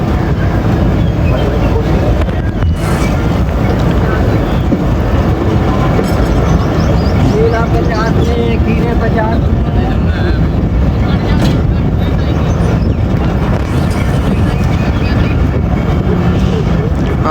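Steady, loud rumble of a Pakistani passenger train pulling out, heard from inside a carriage, with dense low rolling noise, wind buffeting and rattling running unbroken throughout.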